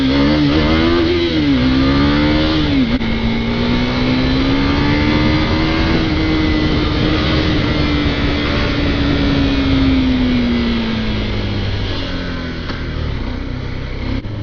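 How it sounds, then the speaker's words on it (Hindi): KTM RC 390 motorcycle engine revving hard and steadily for about fourteen seconds, its pitch rising and falling in long sweeps, loud and close with no talk over it. "वो देख रहे हो रेसें लगा रहा बंदा यार।"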